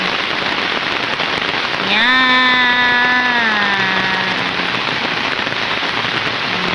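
Steady rain patters densely on a taut surface overhead, with a brief tonal horn-like sound sweeping through midway and a short spoken word.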